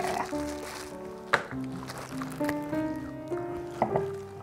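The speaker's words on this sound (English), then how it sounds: "That's how you pour wine." Pudu Cabernet Sauvignon Shiraz wine is poured into a glass, making a soft gurgling, rising liquid trickle with a few small clinks, close and quiet.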